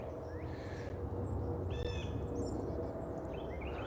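Birds call in a breezy outdoor backyard habitat, several distinct chirps and hoot-like calls at moderate distance over a steady low rumble of wind and a passing plane.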